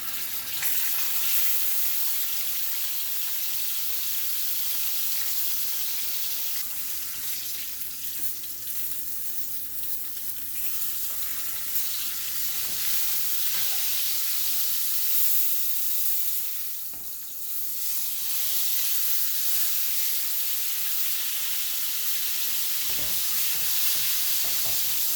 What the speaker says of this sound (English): now I'm just gonna put this whole thing in there and let it sear on one side first